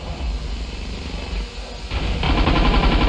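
Cannon fire in the Ravenfield battle game at Upper Blackwell, heard as a dense, continuous roar of gunfire that swells louder near the end, with a burst of bright blast noise.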